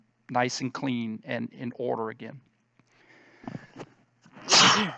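A single sneeze bursts out loud and close near the end, following a stretch of speech and a quieter pause.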